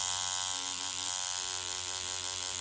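A Hummingbird 2 tattoo machine runs at 7 volts, giving off a steady, close, high-pitched electric buzz with a bright metallic edge. It stays even throughout with no speech.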